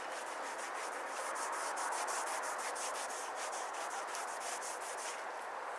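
Honing compound rubbed back and forth on a strop, a close, steady rasping scrub with a quick repeated stroke rhythm and no pauses.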